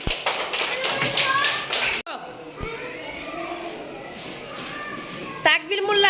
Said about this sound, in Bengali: সবার জন্য আবার জোরে একটা হাততালি